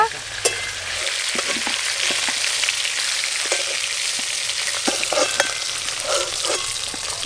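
Chunks of a large 7 kg pangas fish fry in hot oil, giving a continuous loud sizzle with scattered sharp pops and crackles throughout, no talk.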